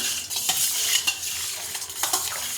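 A spoon stirs salt into hot water in a pot, clinking against the metal sides in quick scraping strokes over a sizzling hiss, close and alone with no talk.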